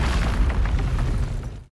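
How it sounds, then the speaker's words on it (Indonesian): A grenade blasts a way out in a film scene, one deep, heavy roaring boom that fills the whole moment at high volume before cutting off abruptly. "ia pun menggunakan granat itu untuk membuat jalan keluar."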